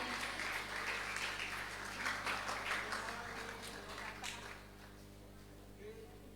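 Audience at a high school graduation ceremony applauds, a fairly faint, roomy patter of many hands over a steady hum, dying away after about four seconds.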